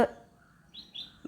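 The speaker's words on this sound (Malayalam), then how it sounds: "നമ്മുടെ കിളികളുടെ ഒക്കെ കരച്ചിൽ കേട്ടില്ലേ" Morning birds give a couple of brief, thin chirps in quick succession, soft and somewhat distant, against an otherwise quiet background.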